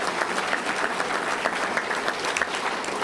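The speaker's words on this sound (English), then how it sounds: "Let's give a round of applause to all of our Touchdown Club team." Room-wide applause from a Little Rock Touchdown Club luncheon crowd for the club team, a steady wash of many hands clapping at an even level throughout.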